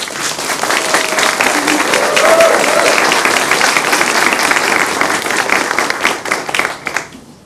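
Audience applause at a Frederick Douglass Day welcome ceremony, loud sustained clapping from a crowd that holds steady for several seconds and then fades out.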